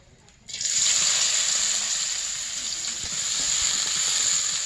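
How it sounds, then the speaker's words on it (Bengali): Loud, steady sizzling of onions frying in hot oil on a clay stove, starting abruptly after a brief quiet moment and continuing as a dense crackling hiss. "এবার পেঁয়াজগুলোও বেরেস্তা করে নিব"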